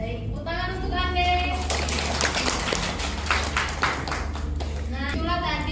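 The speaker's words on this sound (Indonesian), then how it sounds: "tepuk tangan untuk Anda" A classroom group claps after an explanatory-text lesson, a steady spread of hand claps running through most of the stretch while children's voices talk over it at the start and end.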